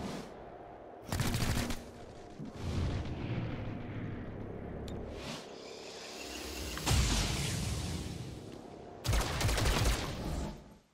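Bursts of gunfire in the XCOM: Chimera Squad video game, several loud volleys of rapid shots with booming impacts spaced through the stretch over a steady background of game noise.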